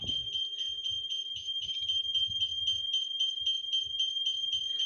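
An alarm module for a swing fan blower, powered from mains with its battery removed, gives a steady, rapidly pulsing high-pitched electronic beep, with soft handling noises underneath.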